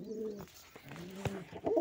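Pigeon cooing close by, soft low throaty coos in a short repeating phrase, fairly faint, with no talking.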